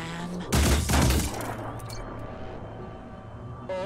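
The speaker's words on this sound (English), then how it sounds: "Opening fire." Burst of gunfire in the video game Phoenix Point, a loud volley early on followed by a decaying rumble and lighter game effects, with no speech.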